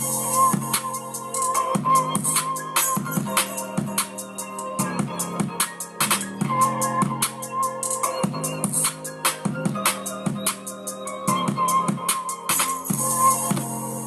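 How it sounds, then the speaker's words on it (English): A deep, punchy 808 bass line steps through a repeating pattern beneath a steady electronic beat and bright synth layers, loud and continuous, played in Maschine and FL Studio. "After I did that, I just went to an 808 bass."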